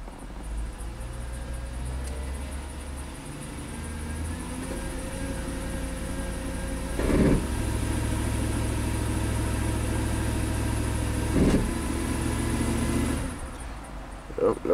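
A Chevy Avalanche V8 with a bank 2 misfire runs in drive at around 1000 RPM, a steady low engine drone with a faint uneven pulse, rising slightly in load partway through.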